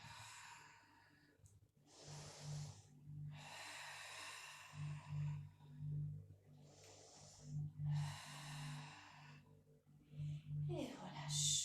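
Loud breaths drawn in and pushed out in a slow, steady rhythm during a seated chair workout, several long exhalations close to the mic with a low hum beneath.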